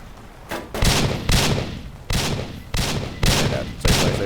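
Rifle shots fired at a turret in a Roblox game, six loud sharp reports spaced at roughly regular half-second intervals, each with a short ringing tail.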